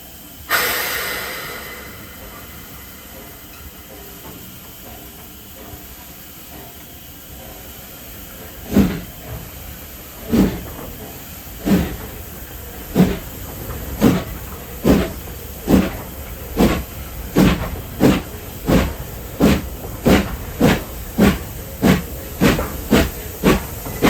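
A steam locomotive on the Churnet Valley Railway opens with a loud burst of hiss that fades to a low steady release, then sharp exhaust chuffs begin and quicken into a regular beat as it moves off.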